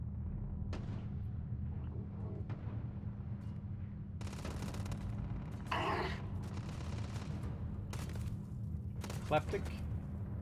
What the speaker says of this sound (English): I can hear some gunplay to the right.